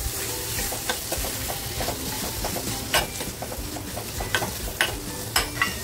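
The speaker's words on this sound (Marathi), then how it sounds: "मसाला मंद आचेवर फ्राय करून घेते मी।" Tomato and spice masala frying on a low flame for prawn masala, a steady close sizzle with repeated light spoon scrapes and taps against the pan.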